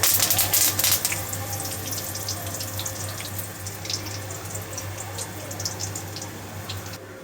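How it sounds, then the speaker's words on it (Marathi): Cumin seeds go into hot oil in a pan, giving a loud, crackling sizzle that bursts sharply at first and then settles into a steady, dense frying hiss, close up with no talking. "तेल गरम झालेलं आहे आपलं त्यामध्ये मी ही जिरे टाकून घेते"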